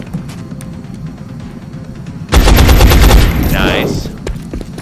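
Gunfire in the video game XCOM: a sudden loud burst of rapid automatic shots breaks out after a quieter stretch, then rings out and fades.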